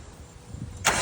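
Mazda Miata NB project car engine cranking and catching near the end, a quiet churn building into a sudden louder burst as it starts.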